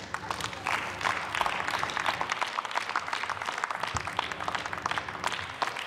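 Applause in the German Bundestag during a debate on fundamental rights and Corona restrictions, a steady patter of many hands clapping across the chamber, moderately distant and even, with no speech over it.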